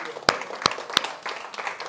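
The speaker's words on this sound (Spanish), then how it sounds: "¿Cuánto le damos un fuerte aplauso al Señor?" A church congregation at an evening service breaks into applause, with a few sharp claps standing out over a brief, moderately quiet patter of many hands.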